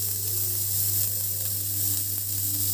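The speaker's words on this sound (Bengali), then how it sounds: "একটু পেঁয়াজ ফোড়ন দিয়ে দিলাম" Onion tempered in hot oil for a Bengali fish curry, giving a close, steady sizzle with fine crackle throughout, plus a low constant hum beneath it and no voices.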